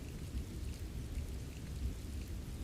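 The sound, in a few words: rain storm with thunder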